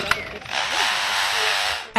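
A 30-year-old lyrebird mimics a chainsaw, with a sustained buzzing, revving drone lasting over a second, bracketed by brief clicks and a sharp sound at the end, fairly close and loud.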